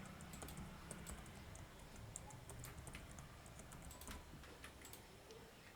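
A computer keyboard being typed on to enter a password during a Windows software installation, soft scattered key taps with irregular spacing, faint and quiet over a steady background hiss, no speech.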